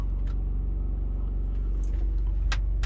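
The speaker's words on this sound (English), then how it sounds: "generator going up on RPMs" A generator powering a split AC unit hums with a deep, steady low rumble that holds close and loud, with a few faint clicks and rustles over it.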